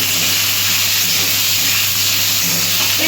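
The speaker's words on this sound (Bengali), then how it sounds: "অল্প পরিমাণে একটু লবণ দিয়ে আলুটা ভেজে দিচ্ছি" Potatoes with a little salt fry in a pan for vegetarian ghugni, giving a steady, close, even hiss with no talk.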